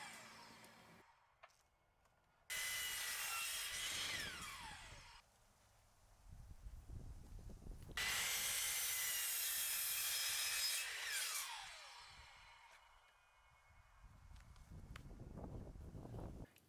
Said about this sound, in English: Before I started to assemble the pieces, I gave them a quick sand.